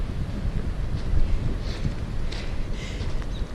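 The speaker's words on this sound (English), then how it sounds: "The wind is really, really blowing." Wind blows hard and steadily outdoors on a walk, a loud continuous rumbling buffet against the microphone with gusty swells throughout.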